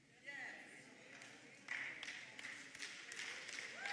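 A church congregation claps during a sermon, with scattered clapping swelling into a light round of applause at some distance while the preacher keeps talking over it.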